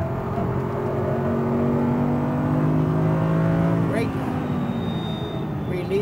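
Audi R8 V10 rear-wheel-drive engine pulling hard on a race track, a steady droning roar with rising tonal whine heard from inside the car, while a voice talks over it.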